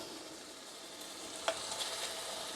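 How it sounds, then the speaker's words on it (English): A beef burger sizzles steadily in a frying pan just after being flipped, a soft continuous hiss with a few small pops and crackles, fairly quiet and close, with no talking. "So I'm just going to flip this burger over."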